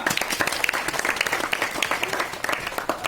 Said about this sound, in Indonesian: Tepuk tangan tuh semua.